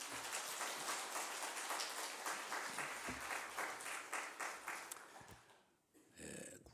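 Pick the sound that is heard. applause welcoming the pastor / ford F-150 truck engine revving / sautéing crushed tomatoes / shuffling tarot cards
applause welcoming the pastor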